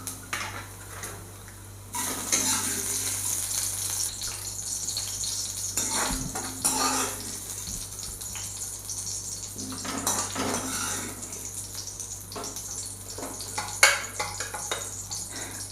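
A fried onion and curry leaf tempering goes into a Kerala-style vanpayar bean curry, followed by scraping and stirring of a metal pan with a spoon, clinking and clattering in irregular bursts with a faint sizzle.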